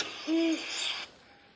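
A single soft owl hoot, short and mellow, trailing into a faint hiss in otherwise quiet surroundings.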